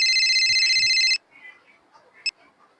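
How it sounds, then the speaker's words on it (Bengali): A mobile phone ringtone rings loudly and steadily nearby for about a second before cutting off, followed by quiet faint sounds and a brief beep. "এখন আবার কার ফোন এলো?"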